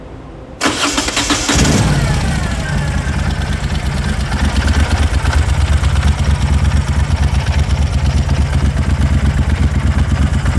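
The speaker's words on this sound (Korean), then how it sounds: "배기음 좀 부탁드리겠습니다" A Moto Guzzi California Vintage motorcycle engine cranks and fires up loudly, then settles into a steady, throbbing idle that continues close by.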